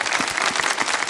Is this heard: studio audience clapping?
yes